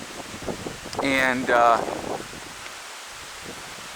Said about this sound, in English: very windy today here at the homestead, as you can see, with the trees